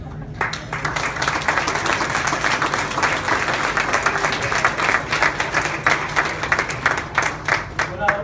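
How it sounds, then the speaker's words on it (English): An audience at a tennis club event gives a sustained round of applause, a steady crackle of many hands clapping that swells and thins, heard under and after a speaker at the microphone. "We'd like to give you a round of applause."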